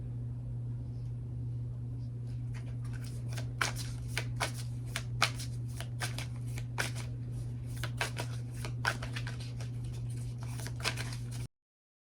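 Tarot cards are shuffled by hand in a run of soft riffling flicks and taps over a constant low electrical hum, faint and close, with no speech.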